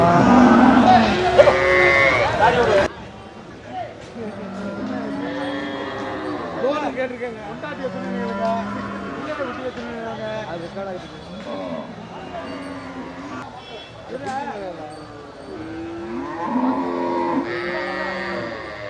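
Cattle moo repeatedly at the Melur cattle market, drawn-out calls from several animals near and far, mixed with crowd chatter and people talking.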